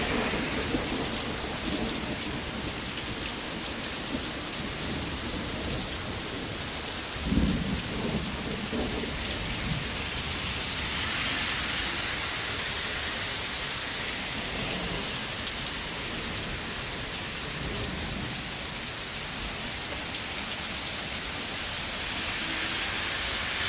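Thunderstorm in the Hochelaga district of Montreal: steady hiss of rain falling on surfaces throughout, with low thunder rumbling in the distance and one heavier crack partway through, no voices.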